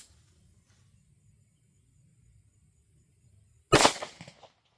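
A single sharp, loud pistol shot of Winchester Defense 115gr JHP, fired over a chronograph outdoors, cracks after near-silence and is followed by a brief decaying echo.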